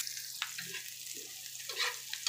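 Eggplant pieces frying in hot oil in a pan while being browned, a steady close sizzle with a few brief stirring scrapes and crackles, no voices.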